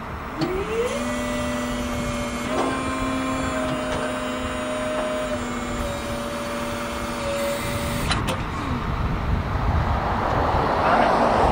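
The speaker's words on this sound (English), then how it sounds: "Now the outriggers are raised" Hydraulic outriggers on a Genie GS-3232 scissor lift retract with a steady electric pump whine and motor hum, pitch shifting in a couple of steps before cutting off, followed by louder broadband machine noise close by.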